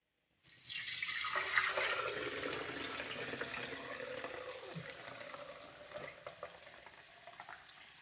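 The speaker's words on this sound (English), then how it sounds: "And then I'm just gonna fill this up to the top with water." Tap water pours steadily into a pot holding chicken bones, thyme sprigs and coarse sea salt for bone broth, a loud continuous rushing stream that slowly settles and deepens as the pot fills.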